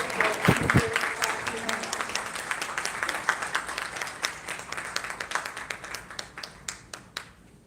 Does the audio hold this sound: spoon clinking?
no